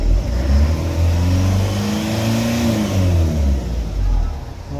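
Diesel CRDi engine of a Kinglong van idling and revving loudly, close by, with rising and falling engine pitch throughout after being restarted following a check-engine fault and months unused; faint voices under the engine.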